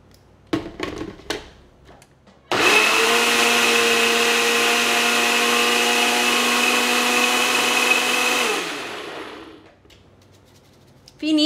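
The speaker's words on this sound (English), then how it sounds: "now we're gonna go ahead and give everything a good blend and get this nice and smooth." A blender whirs steadily for about six seconds, blending keto McGriddle casserole batter until smooth, loud and close with a constant motor drone that winds down at the end, preceded by a few short clunks.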